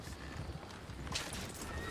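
Horse hooves clopping in the video game Red Dead Redemption 2, a steady run of hoof beats over a busy bed of ambient game noise, with faint speech in the background.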